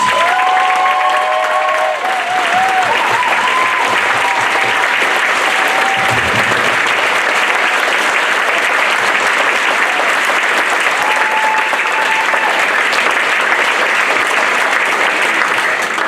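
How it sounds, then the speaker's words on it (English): Sustained audience applause fills a symphonic band concert hall, dense and steady for the full stretch, with faint tonal bits and brief murmurs early on. "one more round of applause for his 23 years"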